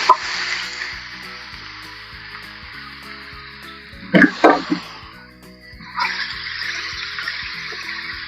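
Boiled chicken pieces sauté in a pan with a little salt, giving a steady, moderate sizzle over soft background music, broken midway by a short burst of louder crackling and stirring clatter.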